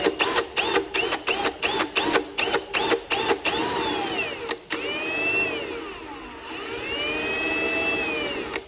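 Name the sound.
drill bit boring through plastic lens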